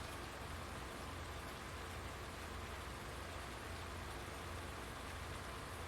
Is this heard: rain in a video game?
yes